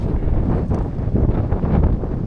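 Steady gusting wind near volcanic steam vents on Hawaii's Big Island buffets the microphone, a loud low rumble that roars continuously throughout with no voices.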